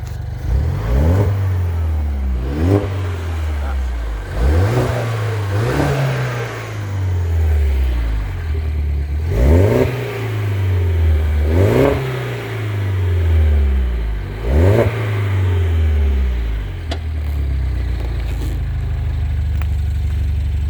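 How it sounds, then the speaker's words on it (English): A 2013 MINI John Cooper Works GP with a warm 1.6 engine and 96k miles revs hard in repeated blips, each climbing and dropping back to a steady idle, loud and close with no talking. "So let me rev the engine now."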